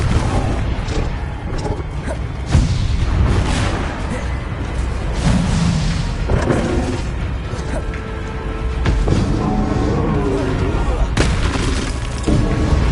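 Confringo blasting spells explode in a Harry Potter video game, a string of heavy booms and crashes over a dense, continuous game soundscape with voices mixed in.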